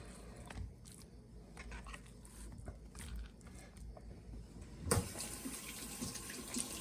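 Tap water runs into a kitchen sink while hands are washed during cooking, a faint steady trickle with small splashes that turns into a louder, fuller gush of water near the end.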